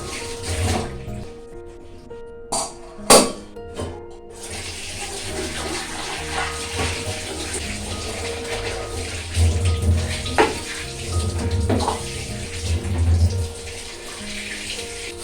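Water runs steadily into a kitchen sink during washing. A few sharp knocks and clatters of items being handled stand out near the start, and the flow continues close and moderately loud throughout.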